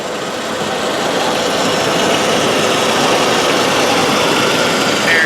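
Steady, loud idle of a 2002 Volkswagen Passat 1.8 liter turbocharged engine, a continuous close-up rumble with even hum that holds unchanged throughout.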